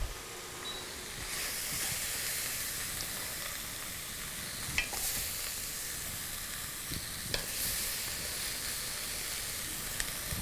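Chickpeas and mushrooms frying in a pan give a continuous close, bright sizzle with occasional stirring clicks and scrapes, steady throughout with no talk.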